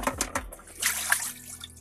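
Excess water poured from a bucket down a drain in a small van shower, a short gurgling splash with uneven glugs, close and moderately loud.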